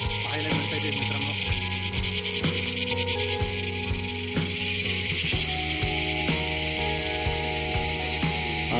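A chorus of insects on the Saptashrungi mountain path at Radtondi ghat makes a loud, continuous shrill buzz and trill that holds steady throughout, with no talking.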